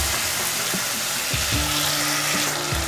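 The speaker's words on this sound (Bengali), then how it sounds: "এবার সর্ষেটাকে জাস্ট একটু কষিয়ে নেব।" Mustard paste sautéing in a pan, a continuous loud sizzle and hiss with occasional scraping stirs, no voices.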